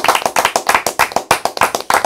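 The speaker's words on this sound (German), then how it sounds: "Ein Applaus!" A small group claps in a quick uneven rhythm on a wrestling talk show, about a dozen sharp close claps with no talk over them.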